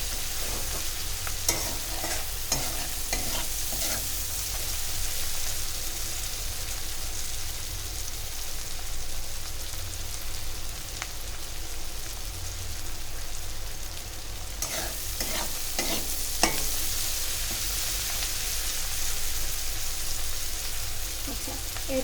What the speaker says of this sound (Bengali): মাছটাকে যতটা পারবে একটু খুন্তি দিয়ে এরভাবে গলিয়ে নেবে